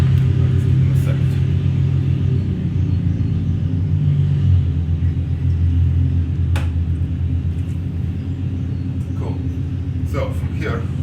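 Neighbors' cars rumble loudly outside, a continuous low engine drone with shifting pitch as they idle and rev, carrying on throughout with a few faint clicks on top.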